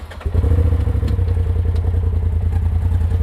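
A Polaris RZR XP Turbo engine cranks and catches, then settles into a loud, low, steady idle with a rhythmic throb, recorded up close.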